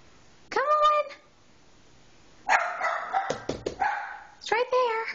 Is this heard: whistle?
no